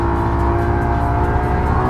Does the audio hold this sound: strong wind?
no